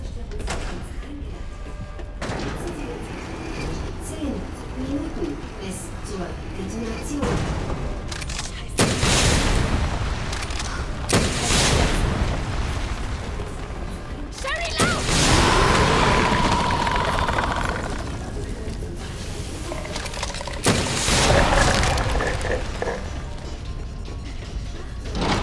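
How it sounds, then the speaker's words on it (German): Repeated booming blasts and crashing impacts erupt in bursts over a rumbling background in the video game Resident Evil 2, loud and close, several coming in quick succession. "Oh, der explodiert schon alles."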